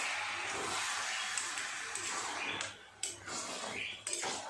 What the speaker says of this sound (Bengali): এবার ভালো করে নেড়ে চেড়ে দেবো